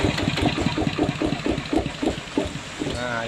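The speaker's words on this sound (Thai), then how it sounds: "ลองเครื่องเรียบร้อยนะครับ เสียงนิ่มมากครับผมแมกนัม155" Magnum 155 Plus diesel engine idling nearby with a steady, rhythmic low chugging pulse and a slightly knocking, uneven beat.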